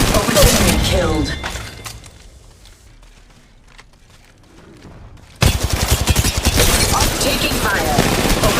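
Gunfire in Apex Mobile, a loud burst of shots, a quieter lull, then a sudden sustained rapid-fire barrage with crackling impacts, mixed with game voice callouts.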